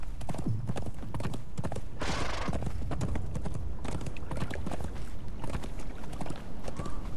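Horse hooves clip-clop in the video game Conan Exiles, a steady rapid rhythm of close hoofbeats running throughout, with a brief whinny early on.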